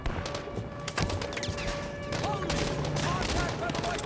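Heavy gunfire and distant explosive thumps fill a Call of Duty Modern Warfare 2 Remastered battle, shots popping continuously while radio-style voices call out over the fighting.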